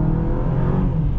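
A 2023 Honda CR-V Sport Touring Hybrid accelerates, producing a steady, moderately loud engine drone with a rising whir heard from inside the cabin.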